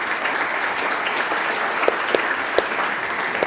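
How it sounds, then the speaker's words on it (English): A conference audience at the European Forum Vienna applauds the speakers with a dense, steady round of clapping, a few sharper claps standing out near the end. "join me in giving a big round of applause to our excellent speakers"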